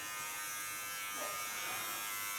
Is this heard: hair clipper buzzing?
yes